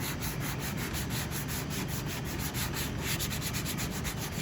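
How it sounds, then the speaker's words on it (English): Sandpaper on a soft pad rubs across Camaro bodywork in featherfill and guide-coat blocking, a close, steady rasping scrub with rhythmic back-and-forth strokes and no voices. "Remember, let the sandpaper do the work."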